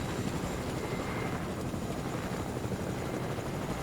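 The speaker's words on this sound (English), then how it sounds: "This chopper's in pretty bad shape." A badly damaged helicopter flies in the video game Fortnite, a steady loud whirring rotor drone with rushing engine noise, continuous and close, with no voices.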